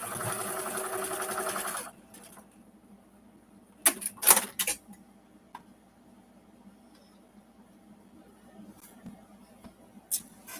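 Home sewing machine stitching quilt four-patch fabric pieces, a close steady whirring run for about two seconds, then quiet handling with brief clicks and rustles of fabric.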